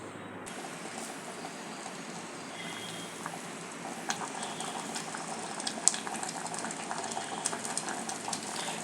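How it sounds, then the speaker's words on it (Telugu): Lentils with spinach, turmeric, salt and chili simmering in a pot for Rayalaseema-style palakura pappu, a soft continuous bubbling with small pops, fairly quiet and close. "బాగా పప్పు ఉడుకుతున్నదండి."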